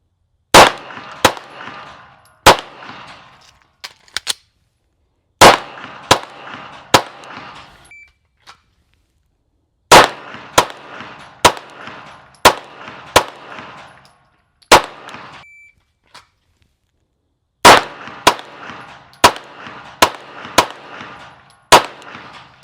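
Strings of sharp Glock 19X pistol shots fired in quick bursts at a range during a Marine Corps qualification course, several clusters of rapid cracks separated by short pauses, loud and close with no talk.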